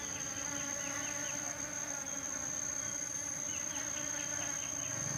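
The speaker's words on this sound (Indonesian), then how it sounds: "kayane iki jenis lebah apis cerana" Steady buzzing from Asian honey bees (Apis cerana) in a cornfield, a dense continuous drone with a high whine running throughout, no voices.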